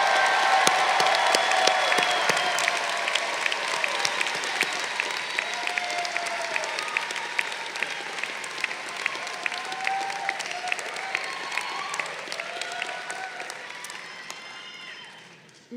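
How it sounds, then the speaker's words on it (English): At an MBA commencement ceremony, a large crowd applauds in a long, even roar with scattered cheers, slowly thinning before it stops. "now we can give them a round of applause"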